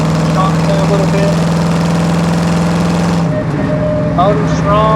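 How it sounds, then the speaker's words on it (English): A 1968 Chevrolet C10 short-bed pickup engine runs at a steady, loud idle with a strong low hum, its tone shifting briefly partway through as the engine note roughens, then settling again. "Motor's strong."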